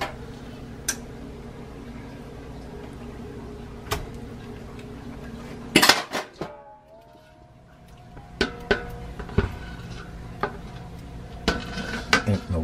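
Pieces of seasoned steak, ribs and pig feet set down on a flat baking pan for a dry bake, a scattered series of sharp metallic taps and clunks, close and distinct, with a brief louder rattle midway.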